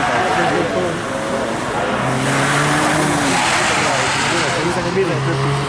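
A car drifting on an autocross track at Lime Rock Park, its engine roaring loud and steady with tire squeal rising over it, while people talk throughout.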